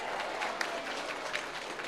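Crowd clapping at a large open-air Islamic religious gathering in Karangturi, Kroya, Cilacap, a brief, fairly faint, dense patter of many hands continuing steadily.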